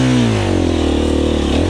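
A KTM 350 EXC-F dirt bike engine revs loudly and steadily up close, its pitch dipping slightly and then climbing again as the throttle opens over the short burst.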